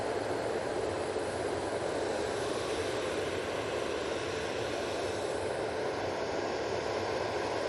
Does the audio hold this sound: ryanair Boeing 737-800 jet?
yes